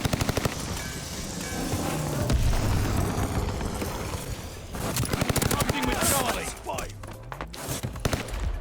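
Call of Duty Vanguard match gunfire: bursts of automatic weapon fire and booming shots crackle over a dense, noisy game mix with rumbling effects, loud and continuous across the stretch.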